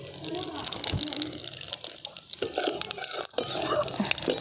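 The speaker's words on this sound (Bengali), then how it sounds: "ফোড়নে দিয়ে দিচ্ছি কালো জিরে আর সাদা জিরে।" Black cumin and cumin seeds sizzle and crackle in hot oil in a kadai, a steady hiss with small pops, close and moderately loud throughout.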